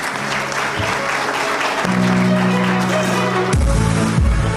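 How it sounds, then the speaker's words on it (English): Applause from the audience at an energy symposium for a panel speaker, a steady broad clatter of clapping over a low tonal hum or music bed, continuing at even loudness. "A big round of applause for Dr. Musaddiq Malik, please."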